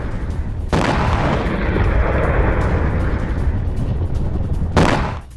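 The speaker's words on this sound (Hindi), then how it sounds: "ये देखिए ईरान का बैलिस्टिक मिसाइलों से बहुत बड़ा हमला" A sustained, heavy roar of explosions from an Iranian ballistic missile attack on a US base, loud and continuous for about four seconds with a sharp onset and abrupt cutoff, no voices.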